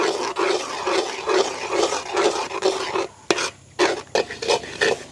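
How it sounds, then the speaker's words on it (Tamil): Egg and chopped vegetables for kottu being stirred and fried in a pan, with steady rhythmic scraping strokes over a sizzle, close and fairly loud, briefly pausing near the end before resuming. "முட்டை இந்த மற்ற மிளகறி எல்லாத்தையும் இப்படி ஒதுக்கி விட்டுட்டு நாங்கள் இப்படியே கிண்டி கொண்டிருப்போம்"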